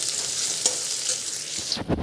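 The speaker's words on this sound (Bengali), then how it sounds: "এবার শাকটা ভাজা করবো।" Leafy greens stir-frying in a pan with fried onion, garlic and chilli, a steady broadband sizzle with a few scraping stirs, ending in louder clattering.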